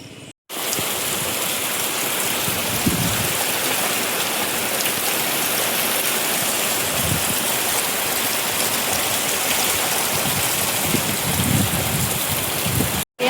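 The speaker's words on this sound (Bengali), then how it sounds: "এক নাগাড়ে বৃষ্টি হয়ে যাচ্ছে একেবারে ঝমঝম করে" Steady, dense monsoon downpour in the Sundarbans roaring evenly throughout, broadband hiss with no voices, starting and ending with a brief cut.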